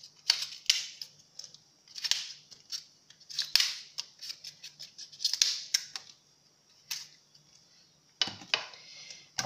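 Tough outer leaves are snapped and pulled off an artichoke one after another, giving a series of crisp, close tearing snaps at an irregular rhythm, with short pauses between pulls.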